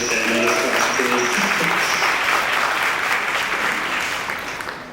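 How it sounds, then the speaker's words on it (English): A round of audience applause for the masters of ceremony at a champions brunch, thick continuous clapping with some voices mixed in, tapering slightly toward the end. "can we give one round of applause to the Masters of Ceremony please?"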